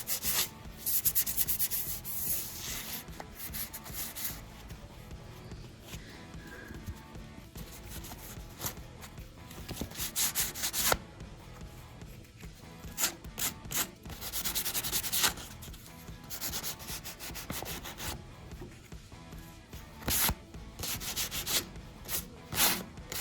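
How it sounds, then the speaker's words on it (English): 220 grit sandpaper rubbed over wood filler spots on a wood veneer coffee table, close irregular scratchy strokes in bursts with short pauses between passes. "I have sanded down the wood filler areas"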